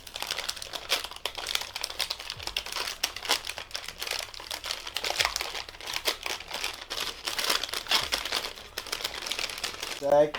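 Packing paper crinkles and rustles close by as PC gaming parts are unboxed, in a long run of irregular crackling bursts.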